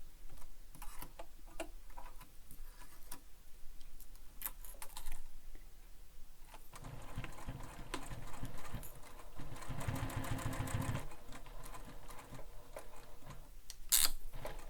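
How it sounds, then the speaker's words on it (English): A sewing machine stitches around all four edges of a fabric anchor piece for a Passenger Backpack, a steady mechanical run of rapid ticking through the middle section with quieter starts and stops around it. "you're going to stitch all 4 edges of the anchor with the seam allowance given in the pattern"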